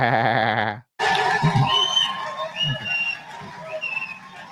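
A bleating sheep or goat, loud and near, its wavering cry followed by a crowd's noisy chatter and calls.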